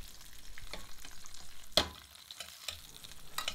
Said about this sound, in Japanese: 鴨から出た油を使ってアロゼ、熱い油を内側にかけていきます。